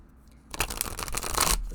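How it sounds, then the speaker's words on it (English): Stiff, thick oracle cards being shuffled, a quiet start followed by a rapid burst of riffling, fluttering card slaps lasting about a second, close and fairly loud. "So you can rifle shuffle depending on the limitations of your hands, or you can overhand shuffle."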